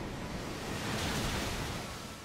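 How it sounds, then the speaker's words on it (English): Ocean waves splashing in Pokemon Shield, a steady broadband rush of surf, fairly soft and continuous with a gentle swell in the middle and no voices. "Big splishy splashy ocean."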